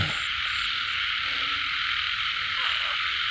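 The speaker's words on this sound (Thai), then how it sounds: "กบมันอยู่ในป่าอยู่ห้างป่าฮะ เสียงร้องเงินแซดเลย" Frogs croak in a rainy forest at night, a dense continuous chorus of calls with a few louder croaks close by, and no talking over it.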